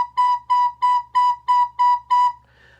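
Recorder plays seven even, evenly spaced eighth notes on one pitch, each clear and steady, followed by a faint tail, with no talking.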